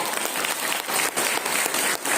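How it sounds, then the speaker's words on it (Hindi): Congregation applauding during a Hindi-language Catholic church sermon about the Mass and the rosary, a steady dense patter of many hands clapping that lasts the whole stretch at an even, fairly loud level. "हालेलुया, ताली बजाइए"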